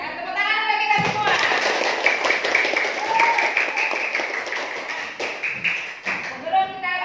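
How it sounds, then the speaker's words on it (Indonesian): A group of children clap their hands together in a classroom storytelling session, a dense, continuous patter of many small hands lasting several seconds, with a teacher's voice and children's voices mixed in over the clapping. "tepuk tangan untuk kita semua"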